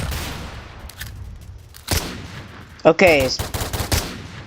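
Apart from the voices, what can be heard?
Luger pistol gunshots in a Roblox video game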